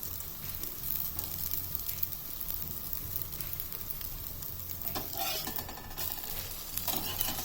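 Atta dosa cooking on an iron tawa gives a steady, soft sizzle and crackle running throughout, fairly quiet and even with slight swells near the end, with no voices.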